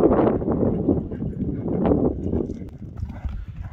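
A young dakan horse gallops nearby, its hooves pounding in a quick, steady clip-clop rhythm that stays loud and close throughout, with faint outdoor noise behind.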